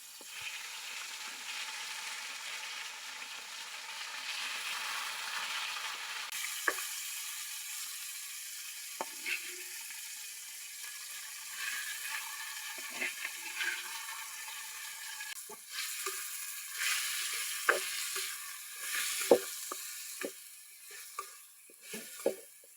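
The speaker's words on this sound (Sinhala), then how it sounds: "ඒකට අපි ඉස්සලාම අර සීසන් කරගත්ත චිකන් ටික චුට්ටක් සාමාන්‍ය ගානට බැදෙනකන් චුට්ටක් බැදගන්න" Seasoned chicken fries in coconut oil in a pan, giving a soft, steady sizzle at low level with scattered light clinks and scrapes from stirring, and no voices.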